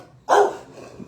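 A bulldog lets out a single short, loud bark close by, with faint background noise around it.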